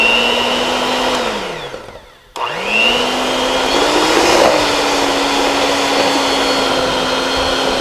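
An electric mixer creams raw honey and coconut oil together, a loud steady motor whine that dips and briefly cuts out, then spins back up and runs evenly at full speed.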